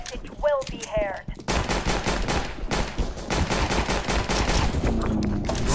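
Rapid automatic gunfire in CS:GO, a dense sustained burst of shots that runs almost without pause, after a brief chirpy in-game sound at the start.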